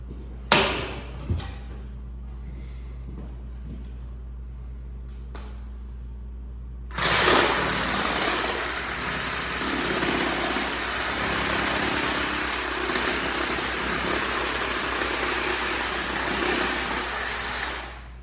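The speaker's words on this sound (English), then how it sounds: "The saw I use is a Milwaukee, just cordless sawzall. I get the Diablo pruning blades." A Milwaukee cordless Sawzall reciprocating saw fitted with a Diablo pruning blade cuts through a beef forequarter bone, a loud sustained buzzing rasp that starts abruptly after a few seconds of near quiet with a couple of knocks.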